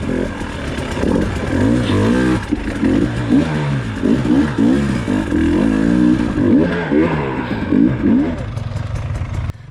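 An enduro motorcycle engine revs hard and unevenly in repeated surges as it climbs over rocks, loud and close with clattering, during hard enduro training.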